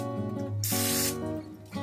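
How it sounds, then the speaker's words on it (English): A short burst of non-stick cooking spray from an aerosol can hisses onto a muffin tin for about half a second, set against a steady low background hum. "we're going to spray the muffin tin with non-stick cooking spray"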